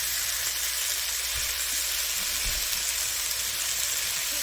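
Steady soft hissing and bubbling of water heating in a pot, with a couple of faint low thumps.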